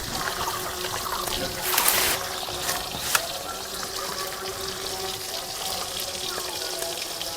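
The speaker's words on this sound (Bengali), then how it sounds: "মাছটা আমি এইভাবে সব ভেজে নিচ্ছি" Boal fish pieces frying in hot oil give a steady crackling sizzle, with brief louder spatters near the two-second mark and a sharp pop just after three seconds.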